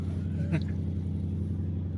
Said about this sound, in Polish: tu wydech jest w ogóle aktywny. On teraz się uruchomił w trybie normalnym